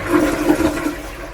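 Close, loud rush of a Japanese toilet flush in a Tokyo apartment, water swirling and gurgling, then beginning to ease off.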